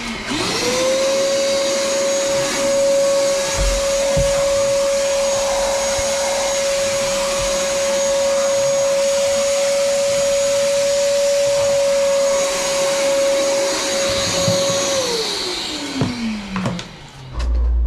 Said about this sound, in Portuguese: Cadê o aspirador?